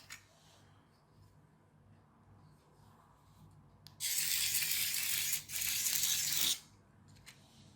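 Small infrared remote-control snail toy with its plastic gear mechanism whirring, a loud grinding buzz running about two and a half seconds with a brief dip midway, after quiet room tone with faint clicks.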